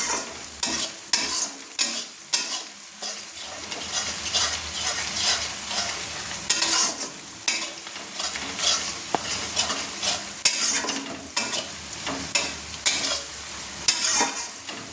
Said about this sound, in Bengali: যতক্ষণ না মশলাটা ভাজা হচ্ছে আমি ততক্ষণ নাড়তে থাকবো